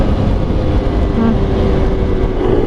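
A Honda NSR 150 SP motorcycle engine runs with a steady, smooth low rumble, loud and close, holding an even tone throughout without speech.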